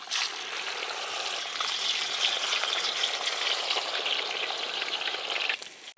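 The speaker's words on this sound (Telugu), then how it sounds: "బ్రౌన్ కలర్ వచ్చే విధంగా మనం వీటిని మంచిగా డీప్ ఫ్రై చేసుకోవాలి" Chicken pieces deep fry in hot peanut oil in a village kitchen with a loud, continuous bubbling sizzle. The crackle sits up close and holds steady throughout, then cuts off sharply at the end.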